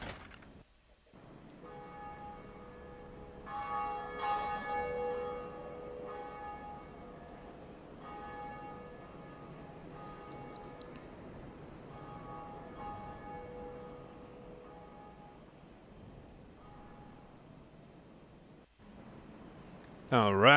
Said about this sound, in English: Alright, so we've rung the first bell.